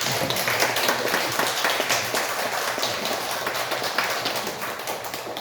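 Church audience applauding in thanks for a professor, a dense, steady patter of many hands clapping close by, without pause from start to finish.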